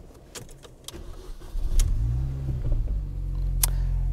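A 2006 Mini John Cooper Works engine starts up after a few clicks, then settles into a low, steady idle rumble close by, with no voices.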